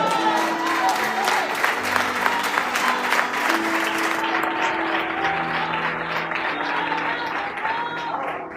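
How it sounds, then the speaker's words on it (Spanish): Applause rolls through a church congregation during a sermon, dense clapping over sustained keyboard notes that thins out toward the end. "Dale un aplauso aquí."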